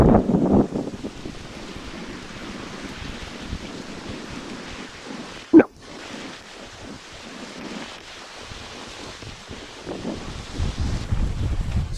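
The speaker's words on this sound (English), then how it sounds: "look at these gusts of wind" Blustery wind buffets the microphone in rumbling gusts in a remote forest, with a sudden loud thump partway through and a steady rushing roar like surf behind it.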